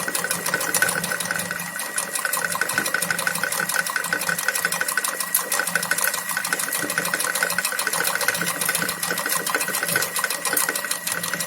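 A sewing machine runs steadily and continuously, stitching a running-stitch fill in silk thread inside a basic shape, with an even rapid mechanical chatter that is close and loud throughout.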